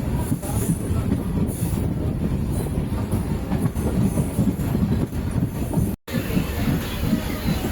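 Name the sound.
passenger train running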